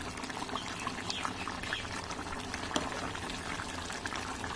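Meat curry with softened meat and potatoes boils hard over a high gas flame, a steady dense bubbling and crackling simmer that stays even throughout, with no voices.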